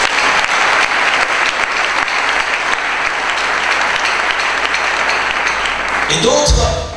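A church congregation bursts into loud, sustained applause that fills the room steadily for several seconds before breaking off abruptly near the end.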